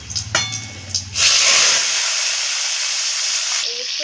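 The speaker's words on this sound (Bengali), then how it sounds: "এবার আলুগুলোকে ফ্রাই করে নেবো" Potatoes go into hot oil, setting off a sudden loud sizzling hiss that carries on steadily and close by, after a moment of a voice and some clatter at the start.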